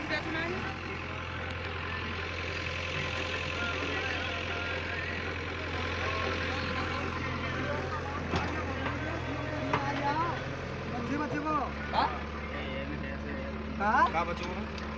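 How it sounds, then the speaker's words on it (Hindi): A Swaraj 735 FE tractor engine idles outdoors with a steady, low, rumbling drone throughout, while several people talk over it and a few sharp clanks punctuate the later part. "ट्रैक्टर बंद करे"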